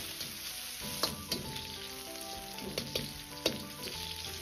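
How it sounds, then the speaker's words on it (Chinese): Sliced pork belly stir-fries in oil in a wok, a close, continuous sizzle broken by sharp scraping clicks of the spatula every half second or so. "接着下入切好的五花肉片煸炒"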